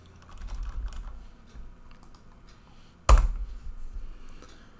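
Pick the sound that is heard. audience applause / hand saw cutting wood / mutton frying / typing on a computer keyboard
typing on a computer keyboard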